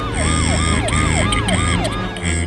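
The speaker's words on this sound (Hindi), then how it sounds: "अंततः एम्बुलेंस" A cartoon ambulance siren wails in a rapid repeating rise-and-fall pattern, loud and steady over a bed of music and effects.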